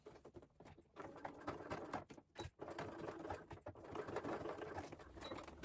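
A home sewing machine stitches forward and back across an appliqué heart patch on a child's trouser knee, a soft, close, steady run of quick needle clatter with brief dips.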